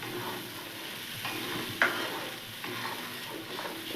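A spice paste sautés over low heat, giving a soft, even sizzle with occasional gentle stirring scrapes, quiet and close.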